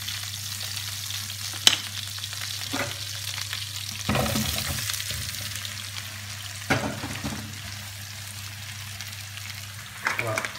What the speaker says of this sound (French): je vais fondre mon beurre dans lequel je vais mettre mes pommes